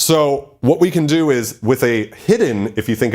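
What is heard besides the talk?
No distinct noise like a dog, phone or traffic.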